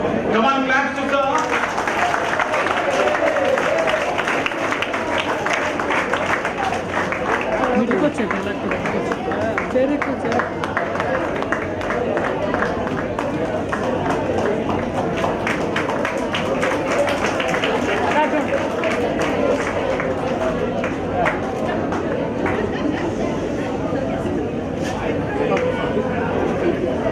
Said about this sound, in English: Come on, claps to sir.